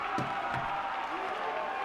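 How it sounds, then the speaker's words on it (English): At an indoor basketball game between the Solent Kestrels and Derby Trailblazers, the crowd roars and claps after a foul, a sustained wash of cheering with a commentator talking over it. "Oh, the crowd is loving it. Everyone's up, saying and one."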